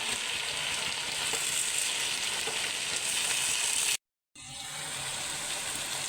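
Eggplant and paneer vegetable curry sizzles and fries steadily in a pan, a loud continuous crackle that cuts out briefly before resuming.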